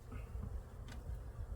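Honey bees crawl over an empty hive frame, giving a faint, steady low buzz close by. No one speaks.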